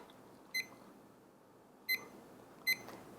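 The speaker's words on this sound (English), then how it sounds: "every time you hear a beep, you know that it registered that number." Oven keypad beeping as numbers are entered during holiday baking: three short, clear electronic beeps, irregularly spaced, over a quiet room hiss.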